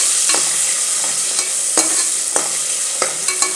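Onion and tomato frying in an open pressure cooker, with a bright steady sizzle broken by repeated sharp spatula scrapes against the metal pot at an irregular pace, close and clear with no talk.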